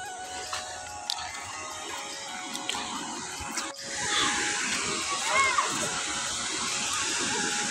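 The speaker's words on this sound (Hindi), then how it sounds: "कितनी तेज़ी के साथ पानी गिर रहा है यहाँ से।" Fast-falling water at Purwa Falls roars as a steady broadband rush that swells louder partway through. A voice can be heard over the water.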